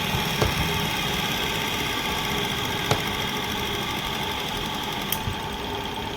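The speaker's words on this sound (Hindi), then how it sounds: "ये क्लॉकवाइज मोटर घूम रही है अभी वर्तमान में" An electric motor with a centrifugal switch runs clockwise with a steady, continuous mechanical hum and whir. Faint isolated clicks sound over it, close and unchanging throughout, with no talk.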